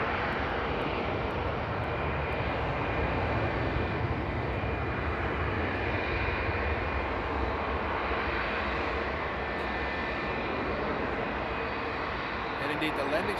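Steady broadband engine roar from aircraft at Frankfurt Airport on a frosty night, a continuous loud drone with no distinct start or stop, heard under light talk.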